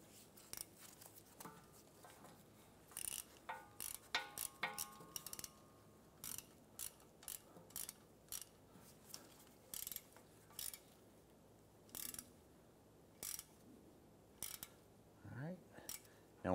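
A ratchet snugs down the mounting screw of a rear ABS wheel speed sensor on a 2015-2020 Cadillac Escalade, giving quiet bursts of rapid clicking in short repeated runs over a low background.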